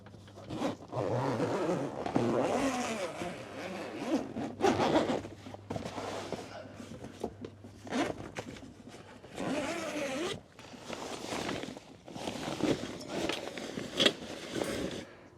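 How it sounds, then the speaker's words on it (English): Zippers on the vestibule of a Roof Space 2 rooftop tent are pulled open repeatedly, in close, crisp runs of ripping teeth separated by short pauses and handling rustle. "So right here on the sides, we've got some additional zippers."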